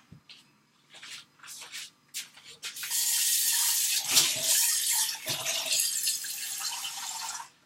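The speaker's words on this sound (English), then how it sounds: "I'm just putting some water in the pan" Water pours steadily into a cooking pan that was just used to heat spiced milk, starting with a few short splashes and then settling into a continuous, close-up rushing stream.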